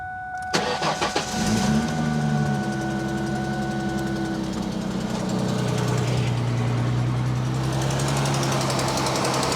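A 2000s Ford Mustang engine cranks and starts, settling into a steady idle with the radiator fan and air conditioning whirring continuously underneath, close and fairly loud.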